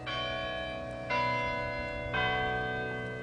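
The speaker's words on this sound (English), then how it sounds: "The chimes on the top of the building ring out on the hour and quarter hour" Chimes atop an Indiana University campus building ring out, three struck bell tones about a second apart, each with a long sustained ringing tail, heard clearly with no talking.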